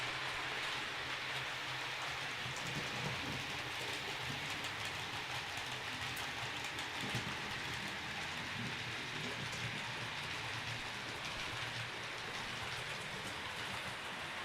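A model railway locomotive runs around a modular layout, giving a continuous soft rolling hiss and rumble of wheels on track that holds steady and fairly faint throughout.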